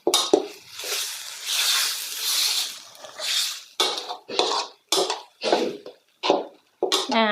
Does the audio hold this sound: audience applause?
no